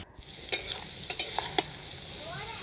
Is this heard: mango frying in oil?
yes